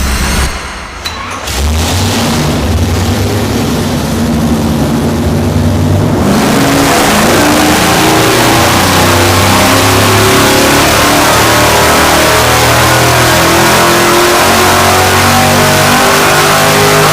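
A supercharged V8 on a dyno fires up and revs hard. Its loud, continuous engine roar holds steady for most of the run with no talk.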